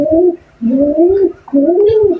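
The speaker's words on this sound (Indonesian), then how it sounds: "Itu burung merpati dimatikan dulu itu." Domestic pigeons cooing loudly and close by in three rolling, drawn-out phrases, each a low throaty swell separated by short pauses, with no talk over them.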